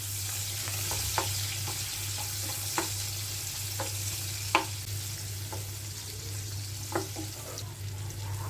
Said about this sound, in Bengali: বাকি তেলে আগে থেকে কেটে রাখা পেঁয়াজ কুচিগুলো বেরেস্তা করব।